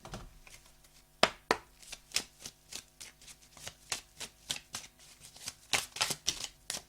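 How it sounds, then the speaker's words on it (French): A deck of oracle cards is shuffled by hand, giving a series of crisp, quick riffling flutters and soft slaps in an uneven rhythm, close and fairly quiet. "Je prends une carte avec mon oracle."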